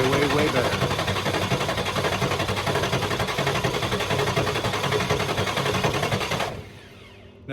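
The 7.3L Powerstroke diesel in a Ford F550, running on a 200 amp jump starter after new injectors, cranks over in a fast, steady, loud mechanical chatter without firing, then stops abruptly near the end, with a voice talking over it.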